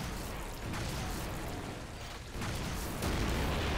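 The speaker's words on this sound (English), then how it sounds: "Big ass explosion." A big explosion in the modded video game Doom 2, heard as a dense, continuous roar of booming blasts and gunfire that keeps building in loudness to the end.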